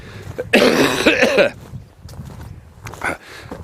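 A burst of rough, raspy coughing close to the mic, followed by quieter breathy throat sounds and a short second cough.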